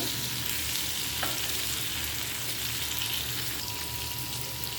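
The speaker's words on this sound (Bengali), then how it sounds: "এভাবে আমি এই পিঠটাও ভেজে নেব ভালো করে" Raw green tomatoes frying in a pan, turned to cook the second side for a charred mash, give a steady, close, continuous sizzle with no talk.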